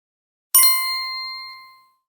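A single bright bell ding rings out cleanly and fades slowly over about a second and a half, with silence before it.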